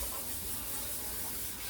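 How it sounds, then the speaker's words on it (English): Rice being rinsed under a running kitchen tap, a steady hiss of spraying water that continues evenly from start to finish with no talking. "now I am going to add some rice, which I'm gonna quickly rinse"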